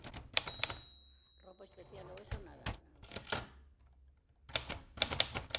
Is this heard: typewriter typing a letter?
yes